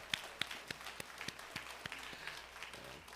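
A church congregation claps together in a faint, rhythmic patter of sharp individual claps, steady and fairly distant.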